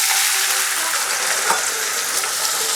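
Shredded potatoes dropped a little at a time into oil over medium heat give off a steady, bright sizzle that stays loud and even for the whole few seconds, with no talking.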